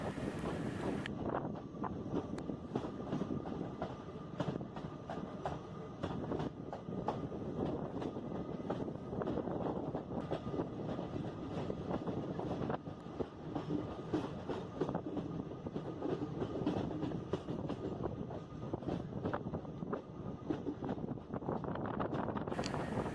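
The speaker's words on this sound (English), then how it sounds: "The train is toddling at just 15-20 kilometers per hour onto a very high hilly terrain, even after the power of a pair of engines" A train hauled by a pair of engines crawls at 15-20 km/h up very high hilly terrain on the Lumding to New Haflong line. It gives a steady, loud rumble with wheel clatter and wind buffeting for the whole stretch, with no voices.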